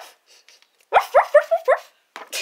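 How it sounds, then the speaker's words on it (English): A little puppy gives a quick burst of five high, yappy barks close by, then a short pause before a couple of softer yips and whimpers. "we have an adorable little puppy named Chewy."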